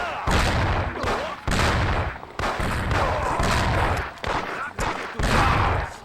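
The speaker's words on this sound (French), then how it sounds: "Envoyez vite quelqu'un, il y a eu des coups de feu." Gunfire in the Mafia video game comes as repeated bursts of loud shots separated by short gaps, with a voice speaking among them.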